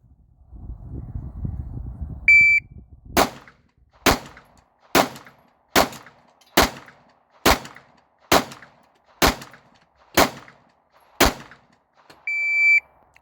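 During a timed pistol shooting drill, a shot timer beeps once, then ten sharp gunshots ring out at an even pace about a second apart, followed by a final beep.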